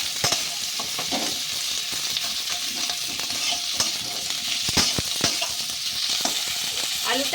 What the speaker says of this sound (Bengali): সিমটা আমি একটু লাল লাল করে ভেজে নিচ্ছি